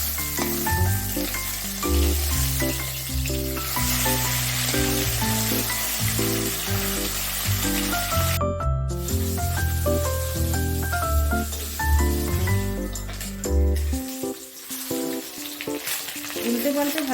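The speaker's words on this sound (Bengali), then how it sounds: "মাছগুলো এক সাইড ভাজা হয়ে গেলে উল্টে দিই।" Flipped fish pieces fry in mustard oil in a kadai for a Bengali baul fish curry, giving a loud, continuous sizzle and spitting hiss close by, with background music and a brief quiet gap near the end.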